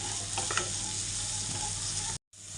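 Turmeric, garam masala and sabzi masala sizzling steadily in hot oil, with a few scraping stirs near the start and a brief break toward the end, for a spiced shev bhaji.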